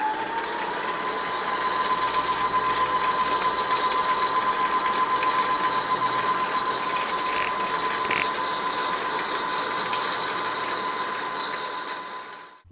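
A Brother CS6000i sewing machine winds a bobbin, a steady close whirring motor hum with a constant mechanical whine that runs evenly for about twelve seconds, then cuts off.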